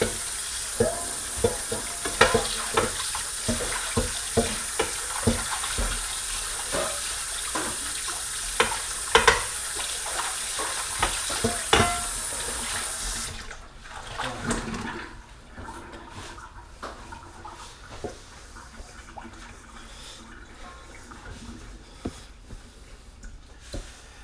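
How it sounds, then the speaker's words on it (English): A bowl used for pizza dough is washed under a running kitchen tap, with splashing water and repeated clattering knocks for about thirteen seconds, then quieter rubbing and dripping as the flow stops. No one talks. "So, wash my bowl."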